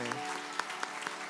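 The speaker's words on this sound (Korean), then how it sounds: "우리 끝까지 축복의 박수로 축하해 주시면 감사하겠습니다." A church congregation at a Sunday worship service claps in blessing, a softish, fairly distant patter of hands with a few sharper individual claps standing out over a faint lingering tone.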